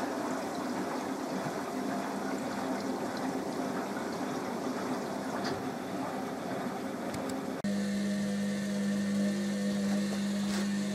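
A washing machine on a rapid wash fills with water, first a soft rushing flow, then a steadier humming inflow with a low droning tone, continuous and fairly quiet, with no voices.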